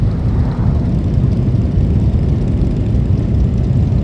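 A helicopter circles overhead near a motorcycle parade, its rotor and engine making a loud, steady, unbroken roar that dominates throughout, with no talk.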